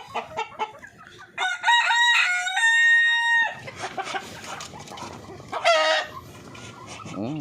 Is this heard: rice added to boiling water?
no